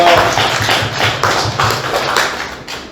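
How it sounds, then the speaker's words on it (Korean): A church congregation applauds during a worship service, loud close clapping from many people in irregular bursts that fade slightly toward the end, with a low murmur underneath. "박수 부탁드립니다."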